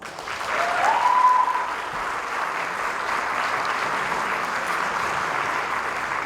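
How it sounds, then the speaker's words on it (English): A large gala audience applauds steadily for several seconds, a dense, even wash of clapping from a full room with a brief whistle near the start. "Let's give him applause."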